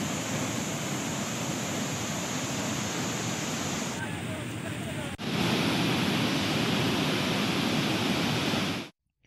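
Floodwater released through eight opened reservoir project gates, around 20,000 cusecs, roars in a loud, unbroken broadband rush that swells slightly partway through before cutting off.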